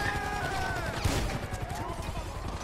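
A burst of pump-action shotgun fire in GTA V deathmatch, a sharp close blast with a crackling tail under busy game noise.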